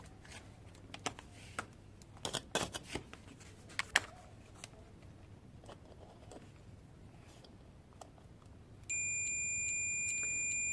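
A multimeter set to its buzzer (continuity) range is tested across a JQC-3FC 5 V relay coil: a few scattered handling clicks and taps, then a steady, loud continuous beep that sounds without a break to the end.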